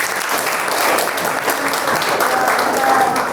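Classroom group applauding during a religious studies lesson, a loud, dense burst of many hands clapping together for a few seconds, close and continuous.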